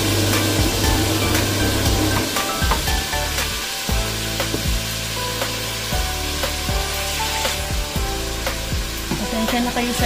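Chicken pieces fry in hot oil in a pan, giving a loud, steady sizzle and crackle with scattered pops and scraping stirs throughout, alongside a constant background hum.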